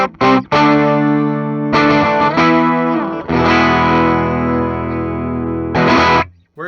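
A bright, jangly electric 12-string guitar, a 2023 Squier Paranormal Jazzmaster XI on its bridge pickup, with a thick, slightly driven tone plays short strums and a long ringing chord, shimmering with chorus-like doubling.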